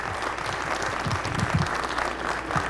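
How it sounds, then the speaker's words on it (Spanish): Steady, dense applause from an audience at a talk fills the room as a continuous wash of clapping, moderately loud with no break. "les daría un buen aplauso para ellos"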